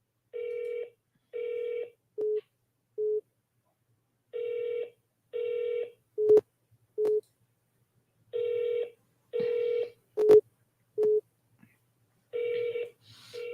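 A telephone number is dialed by hand, with a series of separate keypad tones, some clicks and repeated short beeps of a busy signal, each clear against a silent background.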